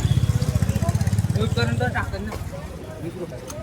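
A Hero Passion Pro motorcycle engine idles nearby with a steady, rapid thumping that softens after a couple of seconds, while voices chatter over it.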